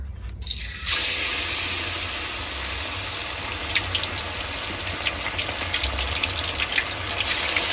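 Fish frying in hot oil outdoors gives a steady, dense sizzle and crackle that starts abruptly and keeps going, with no talking over it.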